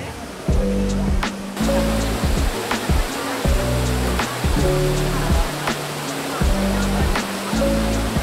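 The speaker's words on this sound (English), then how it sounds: "We're now right into the Trevi Fountain" Trevi Fountain in Rome, its water splashing and rushing steadily under a constant broadband wash, with a crowd murmuring and people talking over it in the foreground.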